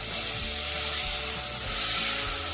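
Distilled vinegar poured into hot prawn pickle sizzles in a loud, continuous hiss with a frying crackle, steady and close for the whole stretch, no voices.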